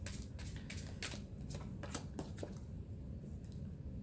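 Tarot cards being shuffled by hand, giving a series of quick crisp riffles and flicks over a steady low background hum, close and moderately soft, with no talking.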